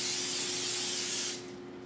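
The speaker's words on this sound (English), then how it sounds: "just give them a light coat of cooking spray" Cooking spray hisses in one steady burst of about one and a third seconds onto upturned potato skins, close and loud, then cuts off to a quiet room hum.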